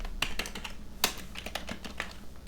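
Rapid typing on a computer keyboard, a steady run of close, crisp key clicks with a few louder strokes, heard alone.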